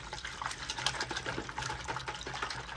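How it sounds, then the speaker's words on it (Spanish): A little water is poured into a cleaning mixture for restoring sneakers, making a close, continuous splashing trickle with small irregular bubbling surges. "Le vamos a echar un poquitito de agua nada más."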